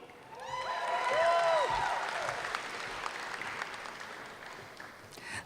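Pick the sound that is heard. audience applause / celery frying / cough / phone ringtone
audience applause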